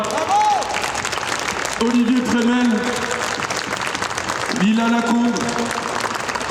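Audience at an anime dubbing conference panel at Japan Pop Show in Mons applauds voice actors, steady dense clapping throughout with someone speaking over it on a microphone.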